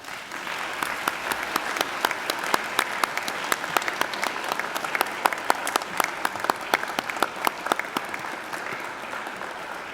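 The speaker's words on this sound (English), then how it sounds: "give them a hearty round of applause" Graduates at a Macquarie University graduation ceremony clap for their families and friends, a loud, dense round of applause that holds steady for about ten seconds with sharp individual claps standing out.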